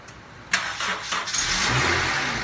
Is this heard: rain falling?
no